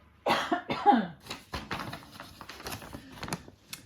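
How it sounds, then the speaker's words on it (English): A close, loud cough burst at the start, followed by softer rustling and small crinkling noises. "I need to cough a bit."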